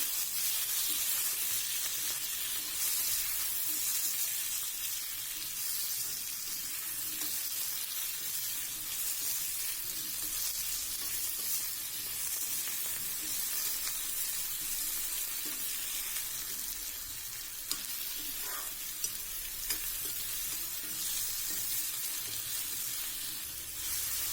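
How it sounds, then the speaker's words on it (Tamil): Garlic, onion and tomato sautéing in a pan for okra tamarind curry, giving a continuous bright hiss and sizzle that holds steady throughout, with faint occasional stirring and no voices. "இந்த பூண்டு வெங்காயம் தக்காளி எல்லாம் நல்லா வணங்கி வரட்டும்"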